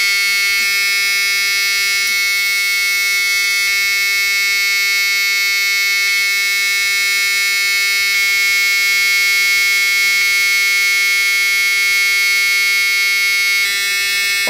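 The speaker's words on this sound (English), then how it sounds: "I'm sorry for the buzzer in the background." A school bus warning buzzer drones continuously with the key switched on, a loud, steady electronic tone holding without a break from start to finish.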